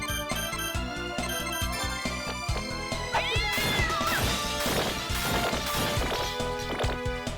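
A summoned cat attack in Castlevania Dawn of Sorrow comes through as a short meow and several quick thwacking hits over steady, busy game music.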